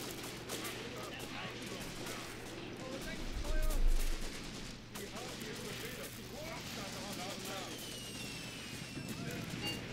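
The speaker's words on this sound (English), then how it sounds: "Oh man, artillery." In the Graviteam Tactics Mius Front war game, artillery fire falls around a trench, with dense rolling booms and crackling gunfire that swell in the middle. A voice talks over the barrage.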